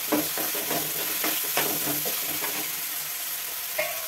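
Ginger paste frying in oil for an Andhra-style omelette curry, a steady sizzle with repeated stirring scrapes in a pan, close and moderately loud, with no voices.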